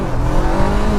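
A 2016 Honda CBR500R motorcycle accelerates hard in first gear, its engine a loud, close, rising roar with a steady droning tone.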